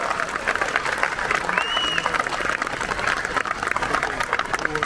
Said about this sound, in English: let's have a huge round of applause for them, guys